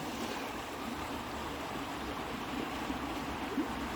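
Flowing water of the McKenzie River, a constant rushing and gurgling stream sound close by, steady and unbroken with no one talking.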